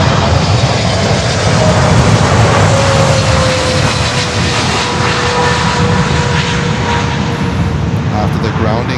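A Boeing 747 cargo jet at Miami airport roars loudly and steadily with engine noise, while a faint whining tone slowly drops in pitch through the dense rumble.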